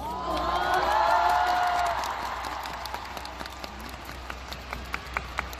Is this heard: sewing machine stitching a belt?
no